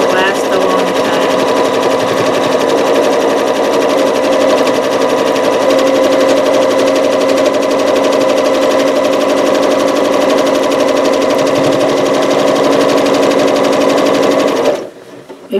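A sewing machine stitches a quilt, running steadily and loud for about fifteen seconds before stopping abruptly near the end.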